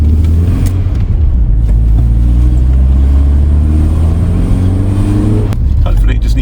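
A Mk3 Golf GTI with freshly poly-bushed front and rear suspension drives along, its engine loud and steady as it accelerates, with a faint creak from the rear under the road noise.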